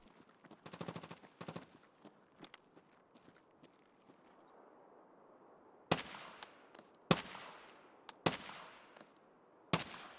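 Rifle gunshots in a video game, sharp loud cracks spaced out one by one, with a cluster of quicker shots early on and four or five separate reports in the second half over quiet ambience.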